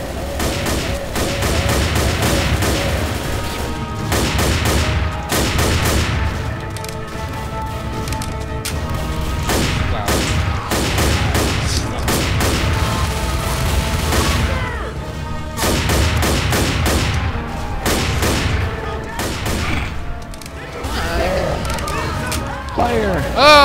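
Dense, loud gunfire in the zombie shooter Left 4 Dead on a custom Zelda campaign map, with rapid bursts and booms running almost nonstop while players shout over the shooting.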